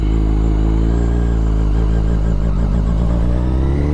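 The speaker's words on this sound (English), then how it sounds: "Look at this high idle, and then it drops." A Yamaha FZ1 motorcycle engine runs loud and close at a high idle, a steady buzzing drone that wavers slightly before the revs begin to sag toward the end.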